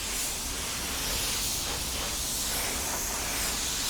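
A paint spray gun lays down a first coat of clear, giving a steady, loud, close hiss of atomized spray that runs unbroken throughout.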